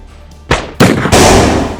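Gunfire in a village at night, with three sharp, loud reports spaced a fraction of a second apart, each leaving a long, rumbling echo.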